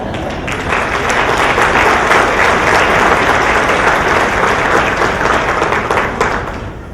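Audience at a pediatrics session applauds at the end of a talk: loud, sustained clapping that swells in quickly, holds steady for several seconds, then begins to fade.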